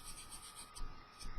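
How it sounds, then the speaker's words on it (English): A sanding stick rubs against the curved end of a metal fuel tank during seam removal, rolled along the contour in short strokes that make a faint, soft, gritty rasp with slight swells in loudness. "I'm rolling the sanding stick as I go on the end of this fuel tank to match the contour of the tank."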